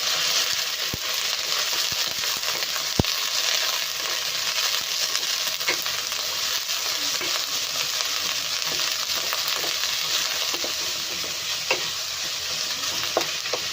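Shredded cabbage frying in a pan for noodles, with a steady hiss of sizzling oil and scattered clicks of a utensil stirring against the pan, with no voices.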